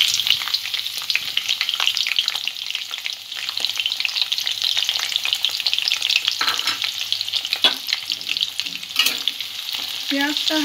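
Sliced onions frying in a pan over a medium flame while chicken kalia is made: a steady, close, dense sizzle and crackle that carries on without a break, with a few soft stirring scrapes.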